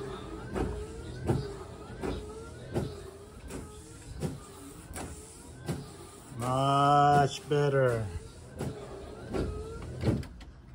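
A 1979 Kombi windscreen wiper motor runs at its second speed, giving a regular whirring sweep and thump about every 1.4 seconds, with a brief louder buzzing motor tone partway through.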